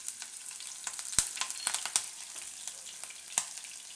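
Green chillies hit hot oil in a Gujarati home kitchen, giving a steady frying sizzle with scattered sharp pops and crackles throughout, moderately loud and heard alone with no talking.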